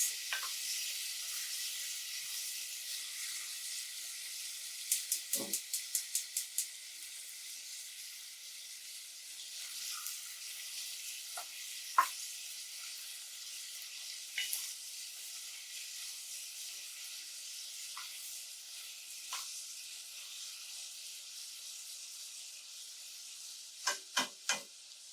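Chicken paprikash cooking with garlic in a pan, a soft steady sizzling hiss broken by a few sharp utensil clicks and taps, faint and with no voices.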